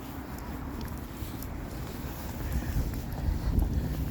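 Steady wind buffeting the microphone on a seaside walk in Halifax in winter, a continuous low rumble that builds slightly toward the end, with no talking.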